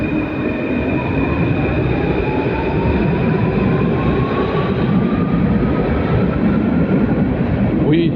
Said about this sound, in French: Il y a beaucoup trop de bruit dans le métro